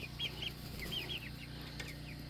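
Chickens, including a rooster and a Polish hen, cluck in a short series of chirpy calls on an off-grid homestead, fairly close over steady low background hum, with no talking.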